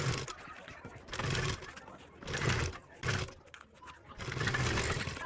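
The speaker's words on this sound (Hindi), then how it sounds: "यहाँ पर हम कच्चा डालेंगे यानी लंबी सिलाई चलाएंगे" A sewing machine runs a long basting stitch through kurti fabric with the buckram flipped to the reverse side, whirring loudly in several repeated bursts separated by short pauses.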